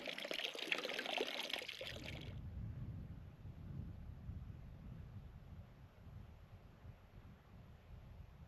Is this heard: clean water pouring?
yes